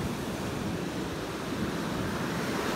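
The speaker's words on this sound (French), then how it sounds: "Ah, il y a des grosses vagues." Large ocean waves breaking near a yacht, a steady, broadband wash of surf rolling continuously at moderate distance, with no voices.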